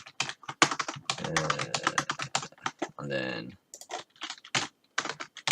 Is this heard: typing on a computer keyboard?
yes